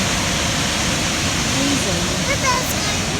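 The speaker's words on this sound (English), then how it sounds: "Look at that water flowing." Kepler Cascades, a waterfall in Yellowstone, roars as a loud, steady broadband rush of falling water that fills the whole moment with no pause.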